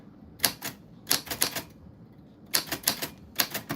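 Bursts of rapid mechanical typewriter keystrokes arrive in four clusters, crisp and close, with brief pauses between them and no voices; a bell ding is not clearly distinct within the clatter.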